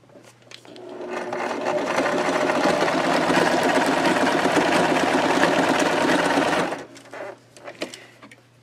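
A sewing machine stitches across the bottom of a fabric pocket, running loud and steady for about six seconds before stopping, followed by faint handling noises.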